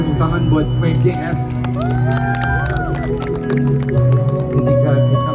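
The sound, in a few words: audience applauding and cheering at Prambanan Jazz festival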